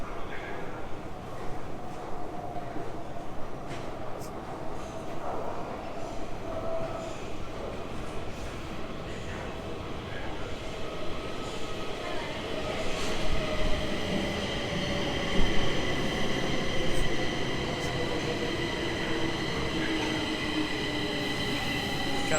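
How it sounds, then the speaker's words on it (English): A Stockholm metro train rumbles steadily into a station, its roar building with faint wheel squeals and metallic hum, with a few distant voices. "Comes the train."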